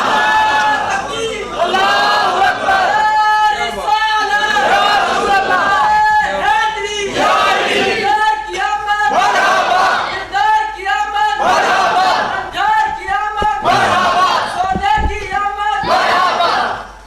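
A crowd of young men chants slogans in loud, rhythmic unison, their voices rising and falling in repeated shouted bursts that fill the space without pause.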